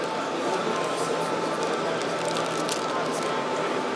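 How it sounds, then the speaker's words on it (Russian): Water pours steadily into a disposable men's portable urinal made in Russia's Kaluga region, a continuous close splashing hiss with no break. "Вливается вода."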